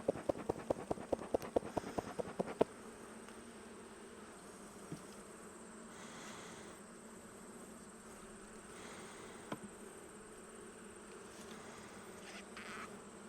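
Honeybees buzz around an open hive in winter, a steady faint hum throughout, opened by a quick series of sharp tapping knocks and broken by a couple of soft clunks later.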